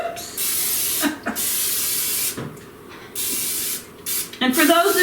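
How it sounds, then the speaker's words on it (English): Several bursts of cooking spray hiss onto a glass baking dish, each lasting about a second, with brief pauses and a voice speaking between them. "let me give that a little spray"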